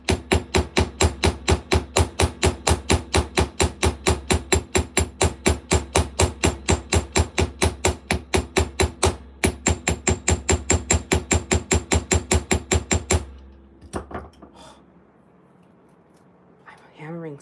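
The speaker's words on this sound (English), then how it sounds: "Hammering so hard," Steady, rapid hand hammering of beading jewelry wire, dozens of sharp metallic taps in even rhythm for about thirteen seconds, close and loud, then stopping with a few faint handling sounds.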